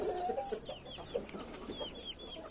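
A rooster clucks repeatedly in short, close calls amid a busy farmyard of chickens and fowl, with other birds chirping faintly in the background.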